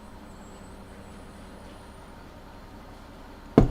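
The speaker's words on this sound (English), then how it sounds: "Sounds like there's a bus outside." A bus outside gives a low, steady rumble in the distance, then a sudden loud hiss of air-brake release bursts out at the end.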